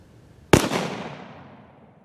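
A Traditions Trapper .50 caliber black powder pistol fires a single 30-grain shot, a sharp loud blast with a long rolling echo that fades over about a second and a half.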